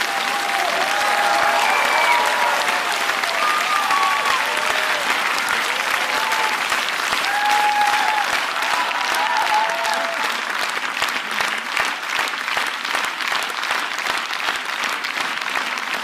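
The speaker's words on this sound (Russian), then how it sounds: "Жюри аплодирует стоя." Jury and studio audience at a televised ballroom dance competition final give a long standing ovation, sustained dense clapping with scattered cheers and shouts early on, settling into steadier rhythmic clapping toward the end, loud and unbroken.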